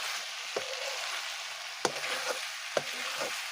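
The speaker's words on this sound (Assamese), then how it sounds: "এতিয়া আমি মছলা ব্যৱহাৰ নকৰাৰ কাৰণে আমি এনেকৈ আদা নহৰু ধুনীয়াকৈ বুটি কিনা দিওঁ" Ginger, garlic and chili paste frying in a pan, a steady close sizzle with a few sharp spatula clicks and stirring scrapes scattered through it.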